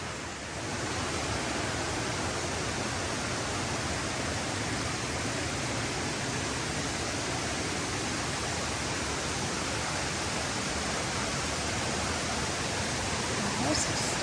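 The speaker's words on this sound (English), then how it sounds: "You can hear the waterfall and the stream." A waterfall and stream along a forest hiking trail make a steady, loud, unbroken rushing roar that fills the whole stretch.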